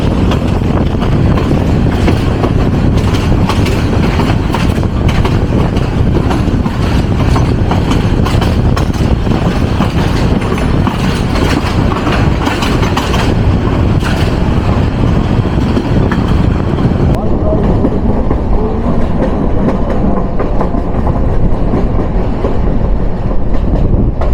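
The Titas Commuter train runs loudly on rails between Brahmanbaria and Narsingdi, heard from the roof as a steady, roaring rumble with continuous clickety-clack of wheels and rushing wind throughout.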